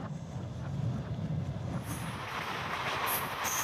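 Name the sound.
Trans-Siberian Railway train running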